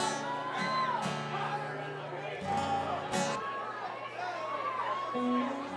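A live concert crowd cheers, whoops and shouts in bursts between a performer's talk, the noise close and lively.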